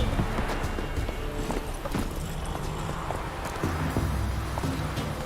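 Horse hooves clip-clopping at a run in The Witcher 3 game, a steady rhythmic patter of footfalls under music and ambience, moderately loud throughout.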